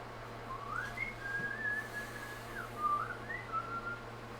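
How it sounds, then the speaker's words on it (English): A person whistles a wandering, sliding melody of a few phrases, clear and moderately close over a steady low hum, with no talk. "Who keeps whistling?"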